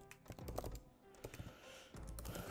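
Fast typing on a computer keyboard while composing a post with hashtags for Instagram, a steady run of close, crisp key clicks with no voices.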